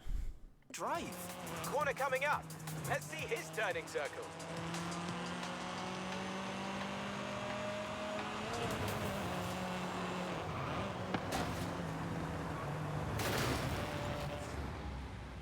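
A race car drives in Forza Horizon 5, its engine droning steadily with rising and falling revs and some sharp bangs, while someone talks over it throughout.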